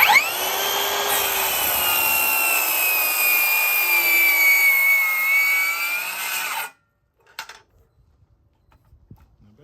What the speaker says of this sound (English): So let's do a bevel cut.